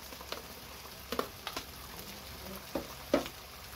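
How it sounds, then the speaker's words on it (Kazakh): Onions and garlic fry in a pan with a light crackling sizzle and several louder pops and stirring clatters spread unevenly, close by, no voices. "Чесногымызды да бірге салып қуырып жіберуге болады."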